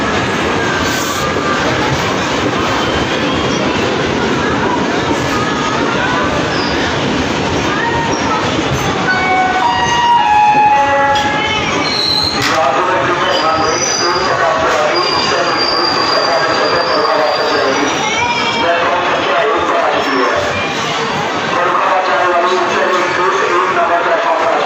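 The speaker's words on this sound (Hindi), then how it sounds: "देखिए उत्सर्ग एक्सप्रेस प्लेटफॉर्म नंबर 1 पे बलिया के आते हुए" Utsarg Express pulling into platform 1 at Ballia railway station, a steady loud rumble of rolling wagons with squealing wheels and scattered high screeches, with people talking on the platform throughout.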